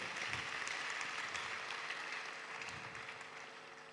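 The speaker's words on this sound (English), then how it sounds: "A round of applause again." An audience at a university public lecture claps in a sustained, even round of applause that fades slightly toward the end, heard from somewhat further back in the hall.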